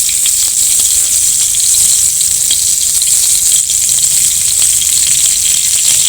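Chicken kathi kabab pieces fry in hot oil with a loud, constant sizzle as they are turned over, with faint scraping taps from the turning mixed in and no voices.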